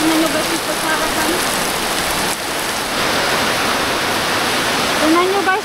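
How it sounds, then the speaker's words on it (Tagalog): Strong wind drives rain across a rural vegetable garden, making a loud, constant rushing wash that sounds close. A voice talks briefly at the start and again at the end. "Grabing lakas ng hangin."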